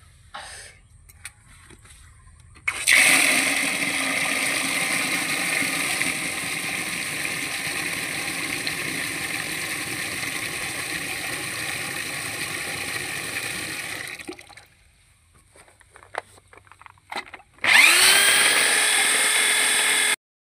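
Power drill with a mixing attachment churning sand in water for rinsing, a loud sustained whirring and sloshing that stops abruptly, then restarts after a short quiet gap.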